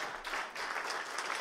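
An audience applauding a speaker's introduction, a dense steady wash of many hands clapping throughout, with a brief dip partway through, no voices heard.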